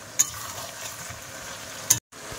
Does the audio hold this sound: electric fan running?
no